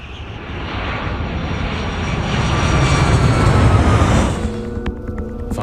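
Engines of the Pan Am Flight 103 airliner drone steadily in flight, a broad, loud roar that swells slightly in the middle before easing, heard alone without speech.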